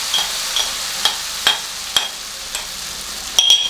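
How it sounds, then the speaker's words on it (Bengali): A lentil mixture for dhokar dalna with whole coriander seeds stirred in a wok, with sharp metal scrapes about every half second over a continuous hiss, close and fairly loud. "আমি খুব ভালোভাবে নাড়বো।"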